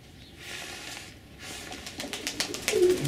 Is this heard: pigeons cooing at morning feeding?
yes